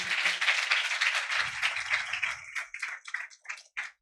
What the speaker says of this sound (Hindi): और तालियों को बजा परमेश्वर के लिए